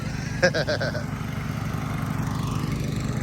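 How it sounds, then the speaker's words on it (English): A lawn mower mowing a yard drones steadily throughout at moderate distance, with a short burst of clattering or voice-like sound near the start over the continuous engine hum. "this is what I got the wife mowing the yard"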